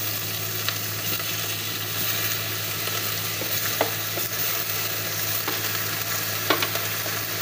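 Squid for adobong pusit frying in a pan, a steady broadband sizzle with a few sharp crackles and pops scattered throughout, close and continuous with no talking.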